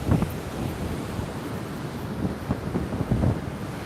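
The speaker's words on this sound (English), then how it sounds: "You see how the water is moving fast? It's so fast." Fast-moving ocean water at Laguna Beach rushes and churns in a steady broadband roar, mixed with gusty wind buffeting the microphone, close and fairly loud with no talking.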